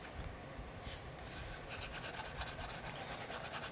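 A finger rubs Aztec gold powder over a textured gourd surface, making a soft, close, dry scratching rub. The rub grows into quick back-and-forth strokes toward the end.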